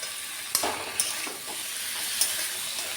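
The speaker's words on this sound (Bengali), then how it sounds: "পেঁয়াজ আর টমেটো পেস্টটা দিয়ে দিলাম।" Onion and tomato paste going into frying potatoes and pointed gourd, a soft, steady sizzle close by with a few sharp clinks of a utensil against the pan.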